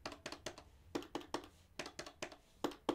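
A run of quick, light clicks from gamer finger buttons, about a dozen taps in uneven pairs and clusters, close and fairly quiet with no voices.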